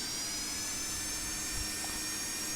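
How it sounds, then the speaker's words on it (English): An AV-8B Harrier jet engine runs in the Falcon BMS flight simulator, giving a steady, continuous whine with a roaring hum underneath. "You spool up the engine."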